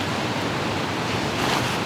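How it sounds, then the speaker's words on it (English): Strong wind blows outdoors during a turkey hunt in North Carolina, a steady loud rushing roar with no breaks or voices. "This wind's tough right now"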